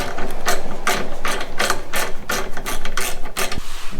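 Quick clicking ratchet strokes in repeated bursts as a 10 mm bumper bolt is backed out on a Toyota 4Runner, close and fairly loud, with a brief pause near the end.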